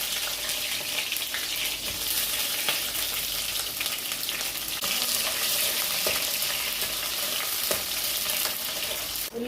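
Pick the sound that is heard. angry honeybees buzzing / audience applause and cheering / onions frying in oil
onions frying in oil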